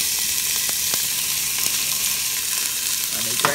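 Onions, celery and carrots sizzle steadily in a hot Instant Pot for minestrone soup, a close, continuous frying hiss with faint stirring clicks and no talking.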